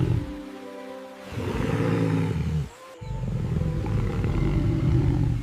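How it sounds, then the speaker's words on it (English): A lion roars loudly and close in two long, rumbling bursts separated by a brief pause. "A lion's roar can be heard 5 miles away."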